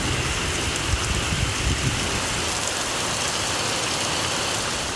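Heavy overnight rain in suburban Chennai, a dense steady hiss of downpour with a low rumble underneath, unbroken and even across the whole stretch.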